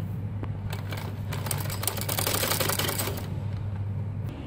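A sewing machine running a double line of stitching along a kurti seam, a fast continuous mechanical rattle with a low motor hum, close up and without speech.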